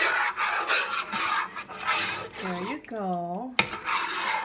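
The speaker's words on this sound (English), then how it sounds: "I have this metal whisk, so it's easy." A metal whisk scrapes and swishes through a creamy corn maja blanca mixture in a pot, a close, continuous raspy stirring broken by a short spoken remark near the end.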